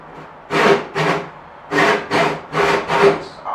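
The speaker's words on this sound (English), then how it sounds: "I could probably cut this more efficiently by hand, to be honest. I'm going to do that. I'm going to go get a handsaw." Wood is cut by hand with a handsaw in steady back-and-forth strokes, about six rasping passes in a loose rhythm with short pauses between them, close and clear with no talking.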